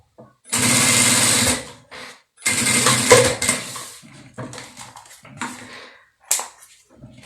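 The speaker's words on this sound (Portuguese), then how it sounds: "vou passar uma costurinha de um pé de máquina dando retrocesso" Sewing machine backstitching through silicone fabric on stitch setting 4, a loud steady whirring run of about a second followed by a longer burst with brief stops and starts, then short scattered handling clatter.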